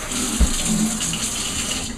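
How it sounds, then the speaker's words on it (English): A sink tap running water over hookah charcoal ashes in the basin, a steady close gush with one brief thump near the start. "run the water right behind that."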